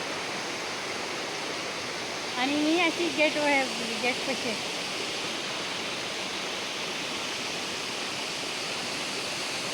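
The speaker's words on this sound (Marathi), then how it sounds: "मी इथं धबधब्यापाशी, खूप सुंदर पाणी आहे आणि छान वाटतंय. वरतून पाणी यायला लागले" A waterfall at the Marleshwar temple area roars with water pouring down from above, a loud, unbroken rush filling the whole stretch while someone speaks briefly over it near the start.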